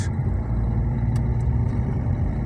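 A Basak 2110 tractor engine pulling a Kuhn planter on a trailer through a field, a loud, steady low engine drone close by, with no talk over it.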